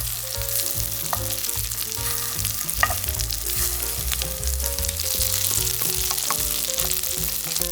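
Egg-coated mushroom patties sizzle in a pan over low heat, a close, continuous frying crackle with scattered pops, heard alone without any talking.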